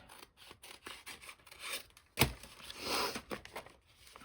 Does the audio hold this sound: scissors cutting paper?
yes